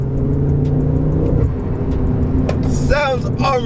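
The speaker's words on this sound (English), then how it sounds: "Listen to that engine." A car engine hums steadily and builds slightly while the car is driven, heard from inside the cabin, with a voice briefly coming in near the end.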